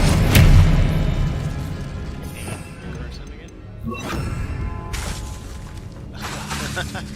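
Spell blasts from Confringo and Incendio in Hogwarts Legacy, a series of crashing, booming impacts with fiery bursts, loud and close, with a game voice talking over the effects.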